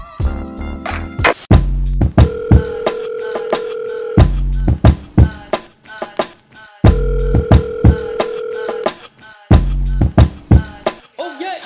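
Telephone dialing tones in a rap track, sounding as short repeated tone bursts and longer sustained tones in a rhythmic pattern, loud and alternating with beat hits.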